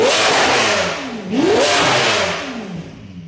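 A Lamborghini engine fitted with an aftermarket exhaust revs hard, its pitch climbing and falling in repeated sweeps over about three seconds, loud and close with no voices.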